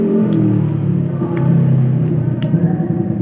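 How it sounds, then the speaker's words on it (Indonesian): A motorcycle goes by outdoors in Malingping, Lebak, Banten, its low engine rumble swelling and fading steadily, with a few sharp clicks over it and no speech. "Gariung ku motor guys."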